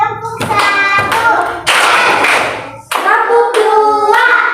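Children in a classroom clap a rhythm game together, bursts of loud group clapping separated by short pauses, with young voices chanting or calling out between and over the claps.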